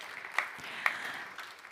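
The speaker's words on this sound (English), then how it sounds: "a round of applause for Dr. Marthalisa Silvana Sosor, a doctor from Indonesia" Applause at a high-level health forum on universal health coverage rings out in a large hall, a soft, distant wash of clapping with a couple of sharper claps standing out briefly.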